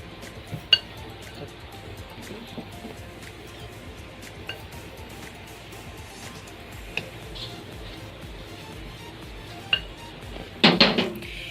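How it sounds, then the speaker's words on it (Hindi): Ground fennel, almonds and chickpeas mixed in a bowl with a spoon, a few sparse sharp clinks, then a brief cluster of louder scraping taps at the end. "अभी हम ये सारे इंग्रेडिएंट मिक्स करेंगे।"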